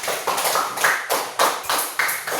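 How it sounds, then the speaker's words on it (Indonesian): Classroom students clapping together for a student group, sharp hand claps in a loose steady rhythm of repeated bursts, close and moderately loud with no talking. "Kita tepuk tangan untuk kelompok yang satu ini."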